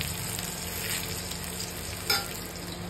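Onions, cut fairly thick, sizzle in a pan as they brown toward red, a soft steady frying hiss with a brief stir clatter near the end, close and fairly quiet, no talking.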